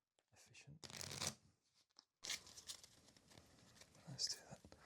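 Deck of playing cards being shuffled in two bursts of riffling and crisp card flutter, close and soft, with quiet handling noises and light rustling between, in an intimate solo card-game setting.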